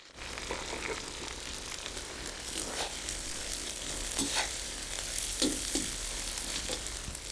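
Onions frying with browned meat in a pan, a steady loud sizzle with scraping stirring strokes recurring throughout, no talk.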